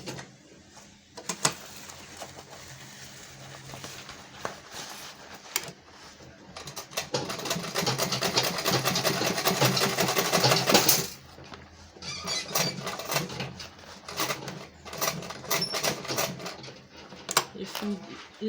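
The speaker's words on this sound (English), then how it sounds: "So now I have to go back to sew this side." A sewing machine stitches a homemade lunch bag, running in a sustained steady whir mid-way after scattered clicks and handling noises, with a voice talking at times.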